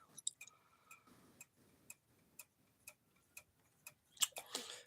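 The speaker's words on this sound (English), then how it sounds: "This is what makes the ticking sound." Steady mechanical ticks sound at a regular pace of about two per second, crisp and fairly close but quiet, with a few brief clicks and rustling handling noise near the end.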